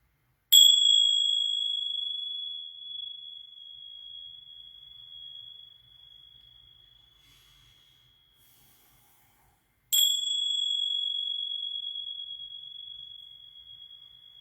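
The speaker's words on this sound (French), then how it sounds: "Alors, on y va avec ce gong." A gong struck twice during a healing session, each strike a bright, clear ringing tone that sustains and slowly fades; the second stroke comes about nine seconds after the first, with no talk.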